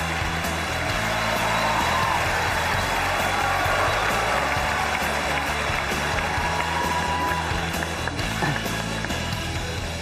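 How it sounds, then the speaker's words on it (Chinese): A studio audience on a Chinese TV job-seeking show applauds to welcome a contestant, a dense, loud roar of clapping that holds steady for about ten seconds. "掌声有请"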